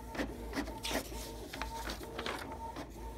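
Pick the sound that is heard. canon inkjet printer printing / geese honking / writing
canon inkjet printer printing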